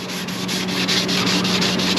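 Sandpaper of 220 grit rubs steadily across a boat's gelcoat in close, continuous back-and-forth strokes with a faint rhythmic pulse, with no voices.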